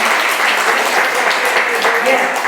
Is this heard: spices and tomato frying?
no